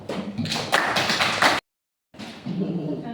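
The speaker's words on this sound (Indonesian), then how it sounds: "kalau begitu kita berikan aplaus untuk kelompok 1" Students in an Indonesian classroom clap after a group presentation, producing dense, close, uneven clapping that stops for a split second and then starts again.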